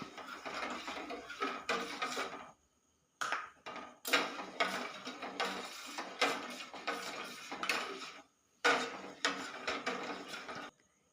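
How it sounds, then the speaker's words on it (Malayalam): Sugar is stirred into milk for mango pudding in a pan, giving close, rhythmic bursts of spoon scraping and clinking against the metal, separated by short pauses. "ഇനി ഇതിലേക്ക് 1/4 കപ്പ് പഞ്ചസാര ഇട്ട് കൊടുക്കാം. ഇതൊന്ന് കലക്കി കൊടുക്കാം."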